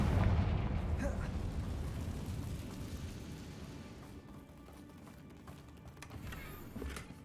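A Confringo spell explosion in a video game bursts as a low, rumbling blast at the start, then decays into a long, fading roar with scattered smaller pops and thuds afterward.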